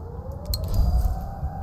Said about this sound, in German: Oh, es gehen jetzt für Sirenen ab.